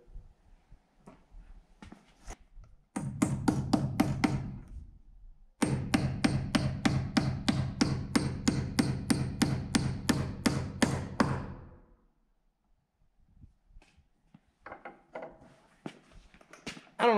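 Rapid hammer blows drive nails through metal straps into a wooden window header on a pole barn house wall, two long close bursts of sharp regular strikes separated by a pause, then scattered lighter taps.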